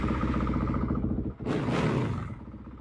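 A freshly rebuilt Honda CRF450R motocross bike runs close by with a steady, loud engine drone. A short dip comes partway through, then a strong burst of broadband roar, like a throttle blip, before it settles back to idle.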